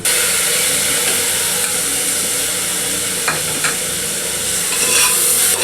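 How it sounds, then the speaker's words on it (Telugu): Tomatoes frying after golden-brown onions in a pan for a coconut milk mutton gravy, stirred and mashed with steady sizzling and occasional scraping clicks, close up with no voices. "టమాటోస్ స్మాష్ అయ్యే వరకు మిక్స్ చేసుకుందాము"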